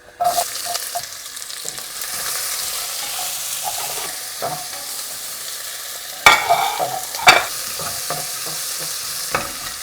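Onions sizzle and fry in hot sunflower oil in a pan, a steady crackling hiss with occasional stirring clatters and a couple of louder spatters partway through.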